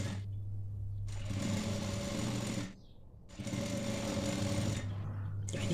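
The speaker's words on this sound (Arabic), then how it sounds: "غادي نزيد نخيطه من الجهه الاخرى ونفوت عليه كامل بالخياطه" A sewing machine stitches along a fabric apron in two long bursts of rapid, even mechanical chatter, separated by a brief pause, close and clear.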